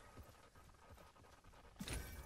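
In the video game Realm Royale, a horse mount gallops in a quiet, steady rhythm of soft hoofbeats, followed by a louder burst of game sound near the end.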